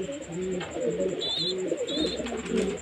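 Domestic pigeons coo close by in a home loft, soft repeated low throaty calls with a few higher chirps mixed in.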